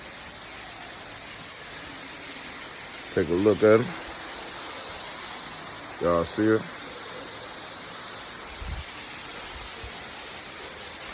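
A rainforest waterfall in Belize makes a continuous, even rushing roar that fills the background, while someone speaks briefly twice over it.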